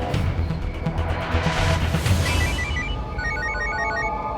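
A telephone rings with an electronic ringtone, its repeating chirps loud over a dense, dramatic background score in a TV crime drama scene.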